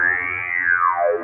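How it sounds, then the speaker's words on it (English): A GForce Bass Station software synth, modulated by an LFO and run through delay, plays a single bright, harmonic-rich tone that glides smoothly downward in pitch over about a second. "Let's just add a bit of LFO to that. Put a bit of delay on that."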